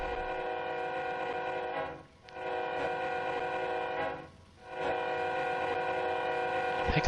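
A sustained train horn in the Train Sim World 2 railroad simulation sounds steadily at Horseshoe Curve, dipping twice in brief gaps before resuming, loud and continuous without speech.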